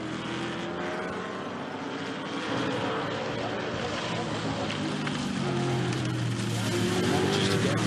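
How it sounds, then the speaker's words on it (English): An Aston Martin GT race car spins off the rumble strips into the gravel at Oschersleben during an ADAC GT Masters round, its engine roaring continuously and building slightly louder as it goes, with a commentator talking over it. "a spin and into the gravel for the Aston Martin"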